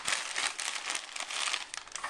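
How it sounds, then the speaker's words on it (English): Packing paper crumpled by hand while wrapping delicate fine-stemmed wine glasses, a dense, continuous crinkling at close range that runs the whole time with no pauses. "we're just going to crumple it like this."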